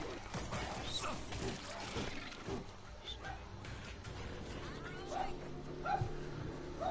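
Simon the dog barks in the World War Z video game, with faint, distant yips and barks scattered through a busy game mix, partly masked by other sounds.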